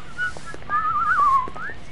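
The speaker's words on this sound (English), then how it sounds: "I whistle better than he does." A person whistles a short, wavering tune of a couple of seconds, close and clear over a quiet background.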